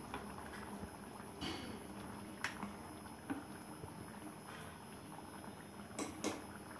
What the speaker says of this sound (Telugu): బాగా ఉడుకుతుంది, అలా ఉడికించుకోవాలి.